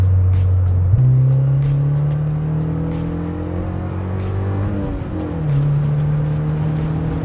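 A Mazda MX-5 engine drones steadily while driving, a loud, close, continuous hum whose pitch climbs gently, dips and rises again as the car accelerates and shifts.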